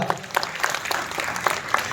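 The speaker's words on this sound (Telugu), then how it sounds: "బిగ్గరగా చప్పట్లు కొట్టండి, బిగ్గరగా" A congregation at a gospel revival meeting claps loudly and close, in a brisk, fairly rhythmic pattern of sharp hand claps with a murmur of voices underneath.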